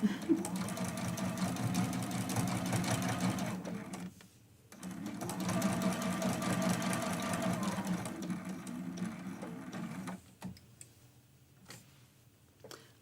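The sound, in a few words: sewing machine sewing a basting stitch on quilt block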